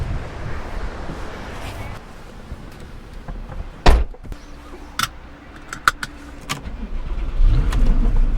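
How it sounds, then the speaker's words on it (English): A Porsche 911 991.1 Carrera S is entered with a thud of the car door before its engine starts, the rising rumble following several sharp knocks amid faint outdoor wind. "as soon as you turn on the car, it feels good"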